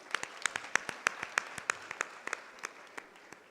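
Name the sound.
applause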